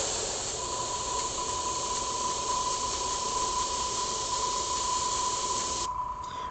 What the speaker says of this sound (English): I'm doing back and forth spritzes.